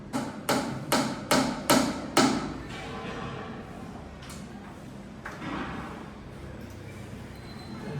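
A small nail hammered into a wall at home, with about six quick, sharp hammer strikes in a row, close and clear, followed by softer thuds and handling noises.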